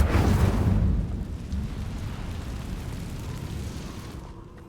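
The Incendio fire spell cast in a Harry Potter video game: a loud whooshing roar of flames bursting out at once, then a sustained rushing rumble that slowly fades, with no talk.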